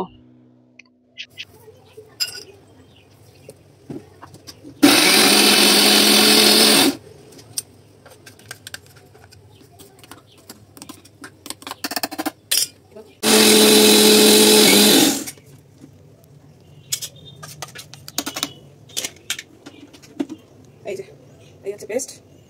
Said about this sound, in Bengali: মিক্সার গ্রাইন্ডার দিয়ে আমি পেস্টটা বানাবো